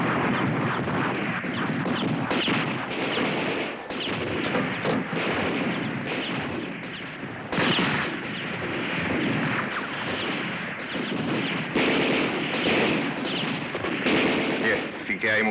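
Battle scene from a 1964 Italian war drama, with sustained gunfire and artillery rumbling loud and continuous throughout, dense bursts mixed with shouted voices and talk over the din.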